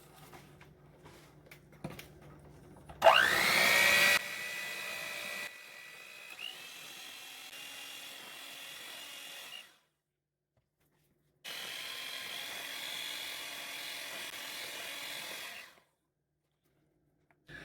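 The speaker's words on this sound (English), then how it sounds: "let's beat this mixture for a minute" An electric mixer beats eggless chocolate cake batter with soda added, whirring steadily in two long runs separated by a short pause, with a brief louder burst as it starts.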